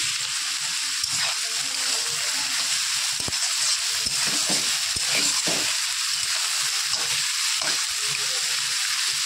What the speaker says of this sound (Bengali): পেঁয়াজটা আস্তে আস্তে ভালো করে ভেজে নেব